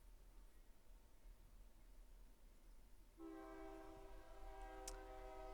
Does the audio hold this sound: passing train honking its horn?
yes